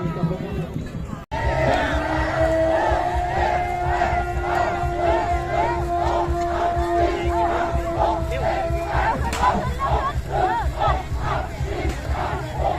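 Large crowd at a long boat race in Khao Wong district, 2023, roaring and chanting continuously, loud and close, with shouting voices and a sustained horn-like tone running under the cheering.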